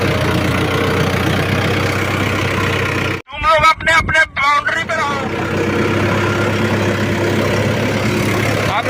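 A Mahindra tractor idles on a farm field with a steady, close diesel rumble that continues throughout, briefly broken midway by someone speaking over it.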